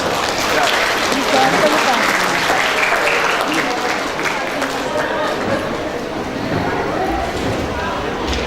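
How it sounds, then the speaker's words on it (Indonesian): Audience applause at an academic conference, a steady dense patter of clapping from a large crowd, loud and continuous, with voices mixed in. "Berikan tepuk tangan."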